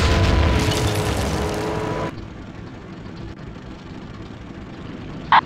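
Artillery shells exploding in the Sudden Strike video game: a heavy rumbling blast fills the opening two seconds, then fades into a low, quieter background with a brief sharp pop near the end.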